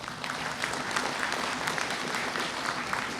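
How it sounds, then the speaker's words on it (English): A conference audience applauds steadily, dense even clapping from a sizable crowd at moderate level, continuous from start to end. "Please give him a huge applause."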